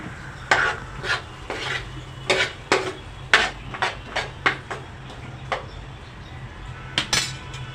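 A spoon stirs and scrapes cauliflower and potato sabji in a pan, with about a dozen sharp clinks and scrapes spaced irregularly and close by over a low steady hum.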